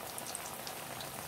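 Vada potato fritters deep-fry in hot oil, making a steady, faint bubbling sizzle with no breaks over a short stretch.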